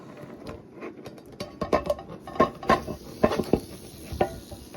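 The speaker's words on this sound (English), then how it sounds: "get your pan nice and hot, medium heat. Throw that bacon in there." Bacon going into a frying pan heated on medium, with a run of sharp clatters and scrapes of the pan and utensils over a faint sizzle.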